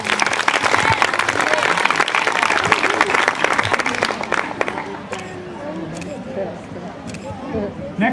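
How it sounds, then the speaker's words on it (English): Audience applause for a boy named Carson at a local gathering, with a crowd clapping and cheering loudly for about five seconds before it thins into scattered claps and murmuring chatter. "How about we give Carson a round of applause?"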